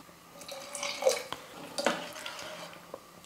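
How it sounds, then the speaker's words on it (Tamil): Water splashes and trickles into a pressure cooker pot in a couple of short pours, with light clinks, close by and fairly quiet. "அதனால் இன்னும் கொஞ்சம் தண்ணி சேர்த்துக்கலாம்"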